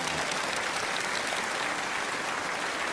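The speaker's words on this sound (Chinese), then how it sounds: "再次把掌声送给" A studio audience at a lecture show claps in a dense, sustained wash of applause that stays loud and even from start to finish.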